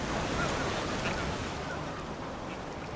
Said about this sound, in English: The waves crashed against the wild beach where Fred and Verna's children used to do t